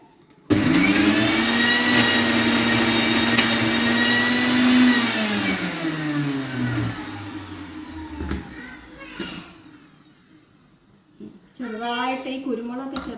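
Mixer grinder coarsely grinding peppercorns, a loud steady whirring motor that starts abruptly, runs for several seconds, then winds down, with a voice speaking near the end.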